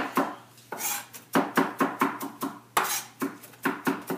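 A knife minces parsley on a cutting board in quick, repeated chops, about a dozen crisp, close strikes in bursts, with no voice over them.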